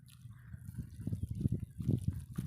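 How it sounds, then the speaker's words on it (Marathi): Faint, close trickling and bubbling water leaking from a broken hose, a low irregular gurgle that grows slightly busier toward the end. "हे नळी तुटली ना रे गड्या"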